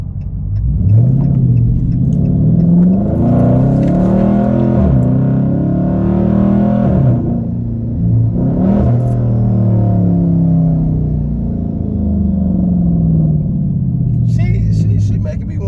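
2021 widebody Dodge Charger Scatpack with straight-piped exhaust in sport mode, loud deep rumbling with repeated revs rising and falling during a drive, heard from inside the car, with people talking over it.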